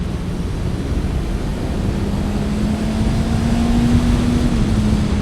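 A four-cylinder motorcycle engine runs steadily at speed, its hum rising slightly in pitch as it pulls, heavily buried under loud, constant wind rush with no talking.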